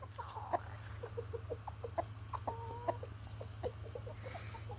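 Broody hen clucking in short low repeated bursts at an irregular pace, close by, over a steady electrical hum and faint background noise.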